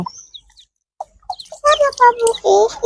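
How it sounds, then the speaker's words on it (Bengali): Newly hatched ducklings give a few short, high, thin peeps, then a person talks close by while more faint chirps sit under the voice. "দেখেন কত ছোট ছোট হাঁস"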